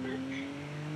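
A car in the BeamNG.drive driving game runs at full speed, its steady engine drone holding throughout with faint tire noise, loud and close for a short stretch.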